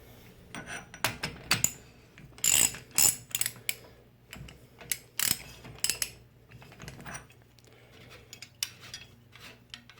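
Crank puller tool turned to remove the crank on a Bafang 1000W e-bike, giving irregular metallic clicks, ratcheting and scraping bursts at close range with quiet pauses between and no talking.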